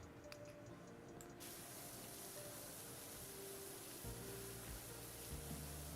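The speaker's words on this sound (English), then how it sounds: "I just sprayed some stuff on the floor." Cleaning liquid being sprayed on the floor in a job simulator video game, a continuous close hissing spray that begins abruptly and runs on with a faint low mechanical pulse underneath, no talking.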